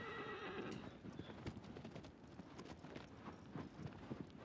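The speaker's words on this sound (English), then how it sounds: "Just a man and his horse." A horse in Shadow of the Colossus whinnies at the start, then its hooves clip-clop in a steady trotting rhythm, close and continuous over a quiet outdoor ambience.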